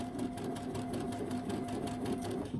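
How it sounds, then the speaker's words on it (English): A sewing machine stitches curved Drunkard's Path quilt block pieces, giving a steady, close, continuous mechanical whir with a fast, even needle rhythm throughout and no talking. "And I'm just going to sew."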